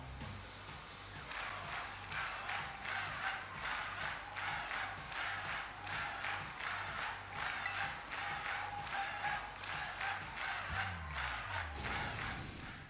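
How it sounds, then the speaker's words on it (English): A Pokemon Violet game crowd cheers for the MC of Rip Rhyme at an in-game event, a steady loud roar with rhythmic pulses and a low thumping beat running underneath throughout. "The crowd's so loud it could wake up the dead"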